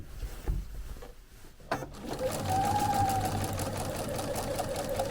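After a few soft handling bumps, a sewing machine starts stitching chenille fabric and runs in a steady, close whir through the rest of the clip.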